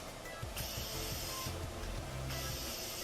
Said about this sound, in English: I'm using my Morphe Continuous Setting Spray